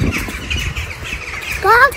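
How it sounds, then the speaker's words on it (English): Birds squawk overhead near a kindergarten, a couple of harsh calls with a clear squawk near the end, fairly loud against background chatter and outdoor noise. "Just like all these crazy birds up there"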